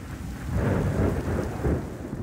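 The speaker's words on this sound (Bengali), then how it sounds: "এরকম একটা বৃষ্টি পাইছি" Steady rain pours down with a low rolling rumble of thunder swelling and fading beneath it, no voices.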